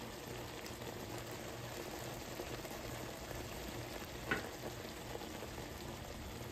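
Pork loin chops caramelizing in a frying pan, giving a soft, steady sizzle and hiss throughout with one brief louder crackle midway, fairly quiet and close, no talk.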